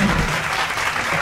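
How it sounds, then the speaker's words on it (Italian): Audience applause welcoming guest Antonello Taurino onto an Italian talk show stage, a dense, close burst of clapping from many hands with no voices over it. "facciamo un applauso ad Antonello Taurino"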